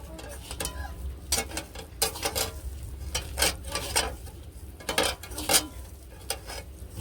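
Salted greens mixed with rice flour by hand in a bowl, giving repeated soft squelching and slapping pulses in an uneven rhythm with occasional light knocks against the vessel, close and moderate in level.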